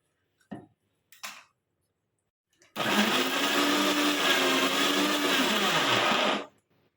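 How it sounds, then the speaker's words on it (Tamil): A couple of quick clicks, then a mixer grinder roars loudly and steadily for several seconds blending tomatoes and garlic to a paste before cutting off; close by, no talking. "இதை வந்து நம்ம மிக்சியில் போட்டு நல்லா பேஸ்ட் ஆக்கிக்கலாம்."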